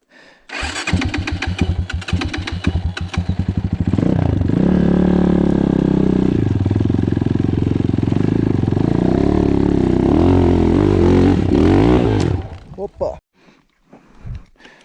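A KAYA 512 motorcycle fires up and revs during a ride test, a sputtering start giving way to a loud, steady engine drone that holds close for several seconds before cutting out, followed by near silence.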